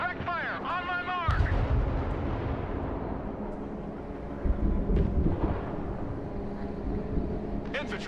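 Artillery fire in a US campaign air base assault mission of a military strategy video game, heavy booms rumbling under game voice lines and battle noise, with a loud blast near the start and another around the middle.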